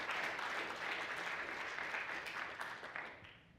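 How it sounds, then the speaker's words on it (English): Audience applause at a PuppetConf 2014 community session thanking the MVPs, a dense steady clatter of many hands that holds for several seconds and then tapers off at the end. "So one more round of applause to thank our MVPs."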